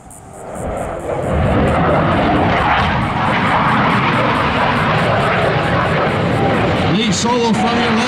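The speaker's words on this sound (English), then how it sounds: "You'll also notice as one of our solos passes by the formation at a much higher rate of speed." A Blue Angels solo jet passes the formation at high speed at an air show at Pensacola NAS, a loud swelling roar that rises quickly and holds steady, with an announcer talking over it.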